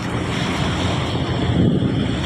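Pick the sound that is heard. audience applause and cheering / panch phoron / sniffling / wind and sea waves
wind and sea waves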